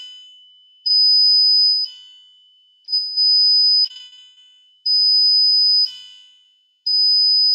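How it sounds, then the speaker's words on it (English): A PiHut maker kit buzzer, set off by a motion sensor, sounds a loud two-tone electronic alarm: steady high beeps roughly a second long, repeating at a regular rhythm with brief gaps between, no voices. "hopefully we'll hear the buzzer and see the lights on the camera"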